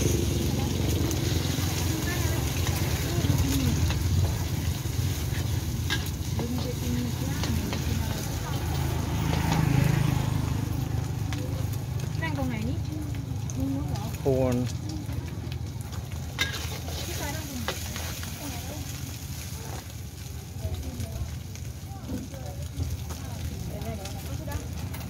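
Pad thai frying at a Thai street food stall at Panwa Cape, Phuket, a steady sizzling hiss with occasional stirring scrapes, set within busy outdoor noise and nearby voices.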